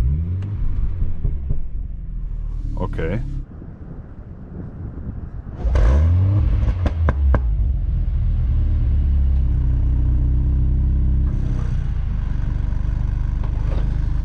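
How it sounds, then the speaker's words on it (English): A Mercedes-AMG C63 engine cranks and fires up with a loud rumble, then settles into a deep, steady idle; a voice speaks briefly before it starts. "hold one pedal and start up the car"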